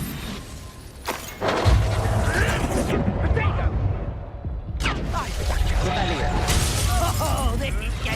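The Incendio fire spell goes off in Hogwarts Legacy, with a sudden burst of crackling, roaring flame that rises twice into a dense, sustained rush amid busy game sounds.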